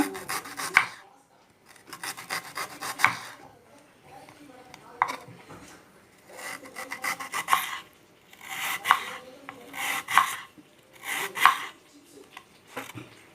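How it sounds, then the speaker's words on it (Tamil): Banana stem being sliced into thin rounds with a knife, a series of crisp chopping bursts arriving in quick clusters with brief pauses between, close and fairly loud. "வாழைத்தண்டு வந்து ரவுண்ட் ரவுண்டாக கட் பண்ணி எடுத்துடலாம்"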